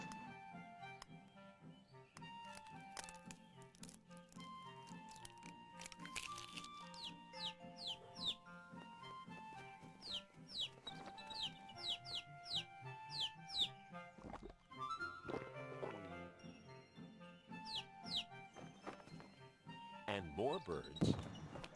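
Birds and chickens clucking and chirping in a rapid, busy pattern of short calls, heard moderately loud throughout alongside background music, with a voice speaking over parts of it.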